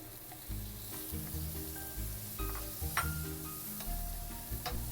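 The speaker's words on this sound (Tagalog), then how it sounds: "Sa mainit na kawali ay maglagay tayo ng mga 1/4 cup na butter." About a quarter cup of butter melting in a hot pan, a soft steady sizzle with occasional clicks and scraping, quiet and close with a low background hum and no talking.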